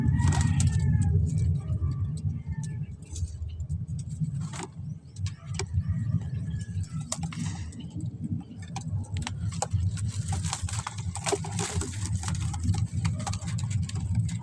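Pigeons being given calcium: fluttering, shuffling and soft clicking near a small group of birds, with irregular taps and rustles over a low background rumble.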